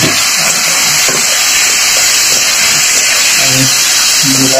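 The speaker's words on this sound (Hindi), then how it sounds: "अभी प्याज फ्राई कर रहा है, उसके बाद टमाटर देंगे।" Onions frying in a pan over a clay wood-fired stove, a steady loud sizzle and hiss throughout with faint low voices underneath.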